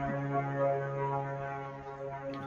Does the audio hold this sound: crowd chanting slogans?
no